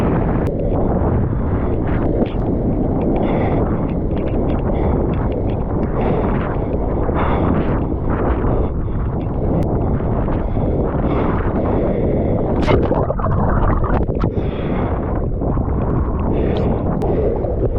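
Loud, constant wind buffeting the microphone at a windy beach with shorebreak waves, a dense low roar with surges and crashes of surf, no voices.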